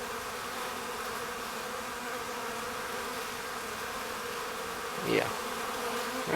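Killer bees swarming around a tree cutout, a dense continuous buzzing hum close by, with one louder bee zipping past near the mic toward the end.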